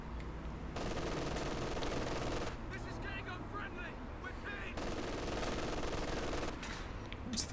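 Machine gun fire in Company of Heroes 2 rattles in long sustained bursts with brief pauses, loud and dense, while a commentator's voice is heard talking over parts of it.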